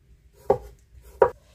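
A knife slices garlic cloves into thin slivers on a cutting board, two crisp, distinct chopping taps about a second apart in a quiet kitchen.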